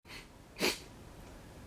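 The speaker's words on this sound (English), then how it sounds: "okay, I sneezed." A single sharp sneeze bursts out close to the microphone during work on a 1957 Chevy's windshield trim, with quiet breathing before and after.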